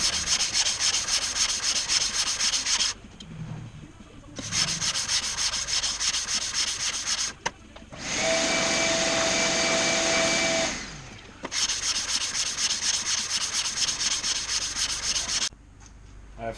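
Sandpaper rubbing over a heavily rusted vintage Stanley No 4 smoothing plane at 220 grit, a loud, steady rasping scrub in long strokes, broken by brief pauses and one stretch of a higher, denser whir.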